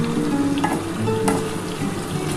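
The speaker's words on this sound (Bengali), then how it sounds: "এবার এটা খুব ভালো করে ভেজে নিতে হবে" Spices with turmeric and salt fry in a hot pan, a loud dense sizzle heard close up with a couple of light stirring scrapes.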